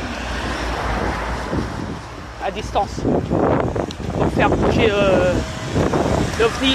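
Wind buffets a microphone outdoors, a rough, low rumbling gust that runs continuously under someone talking close by.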